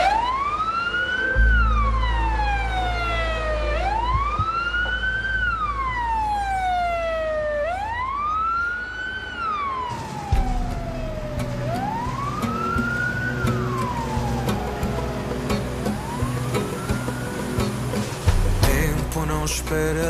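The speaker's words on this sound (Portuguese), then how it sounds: "eu não gosto do som da ambulância" An ambulance siren wails in long, loud rising and falling sweeps, repeating about five times close by with no talk over it.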